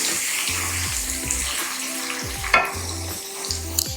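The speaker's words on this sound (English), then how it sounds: "I'm also going to fry that for about 1 minute to infuse the flavor of the locust beans" Locust beans frying in hot oil for egusi soup, a steady close sizzle broken by repeated stirring scrapes at a regular rhythm, with no talking.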